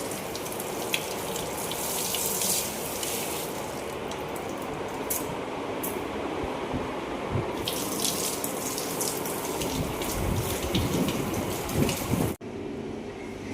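Fresh coriander leaves are washed under a running tap, a steady close splashing stream that continues for most of the clip and then abruptly stops near the end.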